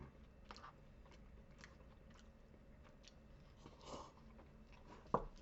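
Chewing on buffalo ranch chicken wings served with buffalo ranch wing noodles: soft, close mouth sounds with a few muffled bites and one sharp crunch near the end, no talking.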